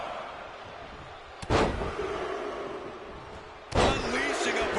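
Wrestler landing a barrage of strikes in the WWE 2K26 video game during a title match: two sharp, loud impacts about two seconds apart, heard over a steady crowd and arena roar.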